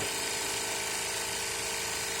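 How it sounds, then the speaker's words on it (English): A Jack tacker sewing machine runs steadily while winding a bobbin, giving off a continuous, fairly loud motor whir and mechanical buzz with no pauses and no talk. "you're going to push the left pedal, which actuates the sewing or the bobbin winding"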